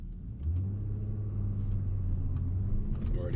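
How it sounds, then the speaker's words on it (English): A Porsche Cayenne with a manual gearbox pulls away hard in first gear, its engine giving a steady, loud low drone that rumbles on without a break as it climbs through the gear. "By 10 miles an hour, I'm already shifting into second."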